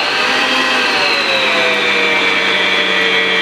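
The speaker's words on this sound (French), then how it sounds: "moi mon batteur il n'a pas de vitesse lente, en tout cas il y a une vitesse lente mais elle est déjà rapide" An electric hand mixer whirs steadily at high speed, a loud, even motor drone with a high whine, running alone without pause.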